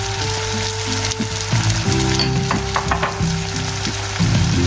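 Apples sizzle and fry in butter with cinnamon in a pan, a steady crackling hiss with occasional stirring scrapes, close and clear with no talking.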